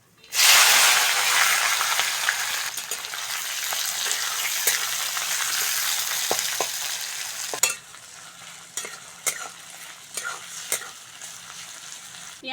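Onion hits hot oil with cumin and bay leaf in a pan and bursts into a loud, hissing sizzle that holds for several seconds. It then drops to a quieter fry marked by scattered scrapes and clinks of stirring.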